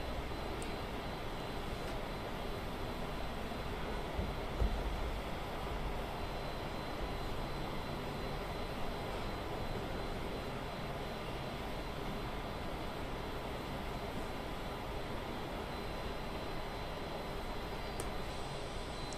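A simulated fixed-wing airplane cruises over Tokyo at half throttle while descending, its engine a steady broadband drone that holds evenly for the full stretch, with no voices over it.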